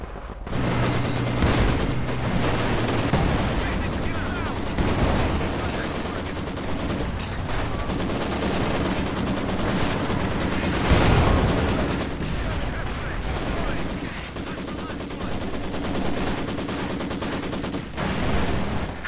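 An incendiary artillery barrage in a World War II strategy game, rolling loud volleys of gunfire and blasts that overlap into a continuous roar of battle, with occasional heavier booms standing out.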